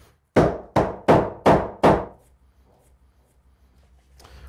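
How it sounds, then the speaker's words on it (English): A wedge is hammered in behind a timber wall stud during a framing repair, five sharp, evenly spaced blows close by, then quiet with a faint knock at the end. "put the wedge in place, drive it in there, pulling the stud forward as I go"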